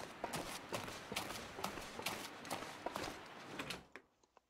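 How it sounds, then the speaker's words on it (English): Rapid footsteps on hard ground in The Long Dark survival game, a steady run of close, fairly loud steps with scuffs and thuds that stops abruptly near the end. "Oh, I heard footsteps too."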